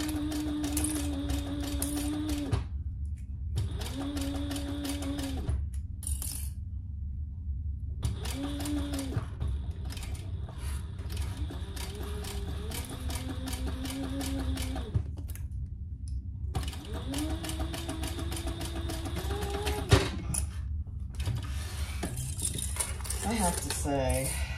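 An old Singer sewing machine runs in steady bursts of mechanical whirring and clicking, stitching basting stitches on a purse, with short pauses between runs and faint background noise.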